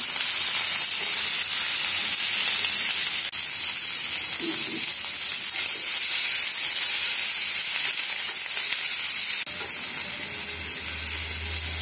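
Shredded cabbage with a pinch of asafoetida sautéing in a hot pan gives a steady, close, even sizzle that runs unbroken for the whole stretch, with no voices.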